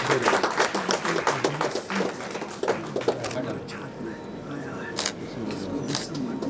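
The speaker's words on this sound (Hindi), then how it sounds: "ठीक तालियां बजनी चाहिए।" Audience clapping at a seminar and felicitation program for newly appointed maths assistant professors, brisk and uneven, fading into scattered claps and room murmur with a few sharp taps near the end.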